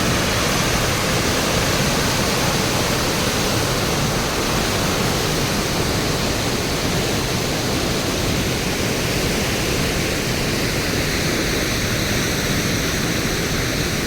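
A fast, brown river rushes past in Richmond, Yorkshire, making a loud, dense, unbroken roar that holds steady throughout with no voices.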